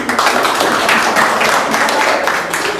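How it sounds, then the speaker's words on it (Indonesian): A classroom of students clapping after a group presentation in a seventh-grade Islamic history lesson, a brisk, fairly close patter of hands in uneven waves lasting a few seconds, without talking. "Tepuk tangan."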